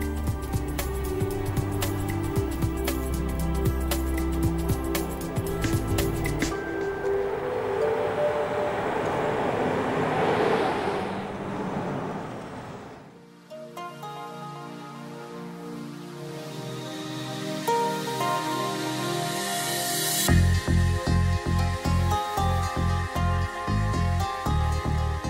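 A narrow-gauge mountain train rumbles and hums as it pulls into Oberalp Pass station in Switzerland, its motor droning steadily, then quieting briefly before mechanical whirring and clanking resume nearby.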